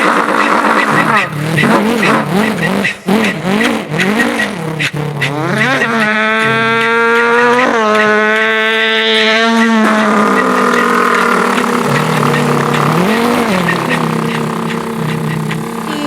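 A voice imitates a race car, producing loud revving engine whines and swooping pitch sweeps like skidding tires, with sustained roaring tones throughout.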